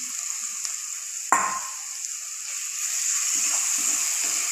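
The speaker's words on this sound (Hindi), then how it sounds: "इसको अच्छी तरह से हम फ्राई कर लेंगे। अब हम इसमें डालेंगे टमाटर, काजू और अदरक लहसुन का पेस्ट।" Tomatoes, cashews and ginger-garlic paste frying in a pan for palak paneer, a steady close sizzle that jumps into a brief sharp hiss as the ingredients go in, then settles back to continuous frying with light stirring.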